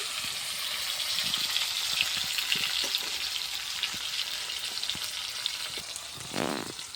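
Chopped tomato and onion frying with whole spices and chillies in a pan, a steady close sizzle with small crackles and a brief louder burst near the end.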